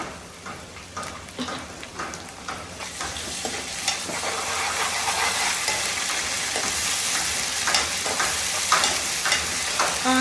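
Ginger paste sizzling and frying with browned onions in a pan, stirred steadily with a spoon; a continuous hiss builds slightly louder over time, with scraping stir clicks throughout.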